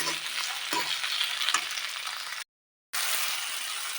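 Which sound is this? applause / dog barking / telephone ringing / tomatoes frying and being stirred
tomatoes frying and being stirred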